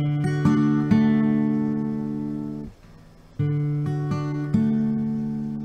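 Guitar chord notes from a Candlebox "Far Behind" part picked one string at a time, individual plucks ringing and overlapping in a slow arpeggio with a short pause midway, close and clear, no voices.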